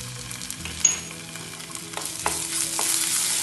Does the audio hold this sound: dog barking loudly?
no